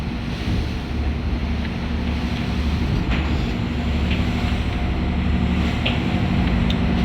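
Westcoaster 65 fishing vessel at sea, a steady low engine drone under constant wind and water rush, dense and continuous with no distinct changes and no talk.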